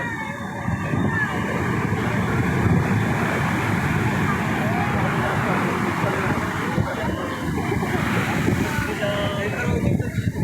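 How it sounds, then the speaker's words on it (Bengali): Sea waves break on the shore at old Digha beach, a continuous loud roar of surf with wind noise and no clear pauses between swells. "এদিকে এদিকে সে লেভেলে ঢেউ দিল পুরো উপরে চলে এসছে"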